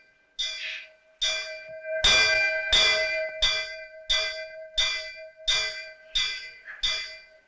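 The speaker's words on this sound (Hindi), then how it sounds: "भूख लगी होगी, घंटी बजा रहा है।" Bell struck ten times in a steady, slow rhythm by a hungry man, each ring loud and close with a bright metallic tone that rings on between strokes, no voices present.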